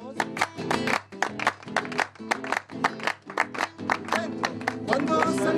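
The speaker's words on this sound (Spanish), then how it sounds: "Vamos a hacer palmas" Children and adults clapping hands together in rhythm during an outdoor music lesson in the rural Monte de Santiago area of Loreto, with a steady series of sharp, fairly close claps and a quieter background hum.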